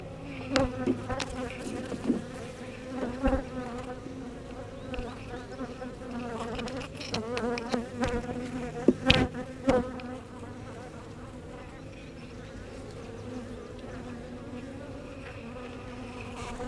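A dense swarm of honeybees hums steadily around an open hive during an inspection, the insect drone filling the whole stretch with louder passes of individual bees flying close by.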